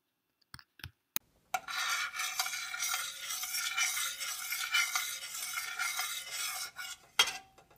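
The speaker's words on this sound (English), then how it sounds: "Then you want to add the unsweetened cocoa to the pan and mix it in well." A spoon stirs unsweetened cocoa into melted coconut oil and sweetener crystals in a pan, a continuous close scraping swirl lasting several seconds after a few sharp clinks, with no talk.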